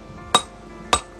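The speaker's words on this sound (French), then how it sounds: "Pour vous prouver la résistance de cette roche, je vous ai apporté mon marteau." A hammer strikes a hard rock twice, about half a second apart. Each blow is a sharp, ringing crack close by, with quiet between them and no talking.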